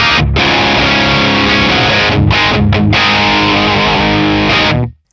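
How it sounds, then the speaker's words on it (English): Electric guitar through a Beam Mini amp set to a Marshall JMP50 Lead Plexi model, a low-gain crunchy tone with strummed chords ringing loud and sustained, brief gaps between strums, then cutting off at the end. "Let's do a bit more of a low gain tone. So the Marshall JMP50 Lead Plexi."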